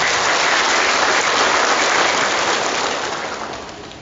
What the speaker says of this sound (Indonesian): Tepuk tangan untuk Bapak Ibu.